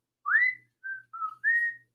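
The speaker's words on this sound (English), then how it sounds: "He always whistled at the same time and to the same tune whenever he needed to think." A lone person whistles a short tune, four clear melodic notes, the first a rising glide followed by steady sustained tones, close and clean with no talk.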